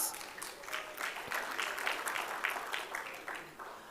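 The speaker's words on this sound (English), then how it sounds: "Give G a big round of applause" Audience at an airports cooperation conference gives a round of applause: fairly faint, even, sustained clapping from a room full of people, with no talking over it.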